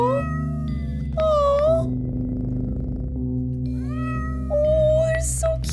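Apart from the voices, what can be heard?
cats meowing in the video game OneShot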